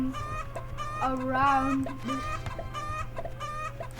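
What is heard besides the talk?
chickens clucking in a chicken simulator video game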